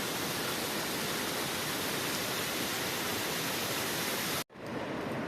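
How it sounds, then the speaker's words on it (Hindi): Small waterfall beside the Pindari Glacier trek trail, a dense, constant rush of falling water heard up close and loud, cutting off abruptly near the end. "छोटा सा वाटरफॉल, फाउंटेन"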